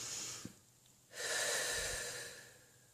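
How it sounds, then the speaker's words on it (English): A deep breath drawn in slowly, a soft airy inhalation that swells and fades, close to the mic and alone. "Take a deep breath in"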